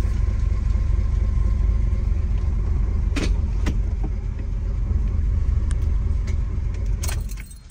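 A 1989 Chevy S-10 pickup's engine hums low and steady from inside the cab while driving, with a couple of sharp clicks and a rattle near the end as the sound tapers off.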